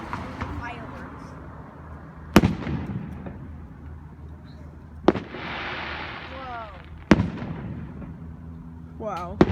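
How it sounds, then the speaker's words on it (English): Fourth of July fireworks burst in four sharp, loud booms spaced a few seconds apart, with crackling trails between them and people talking throughout. "like right now, you can see all the fireworks."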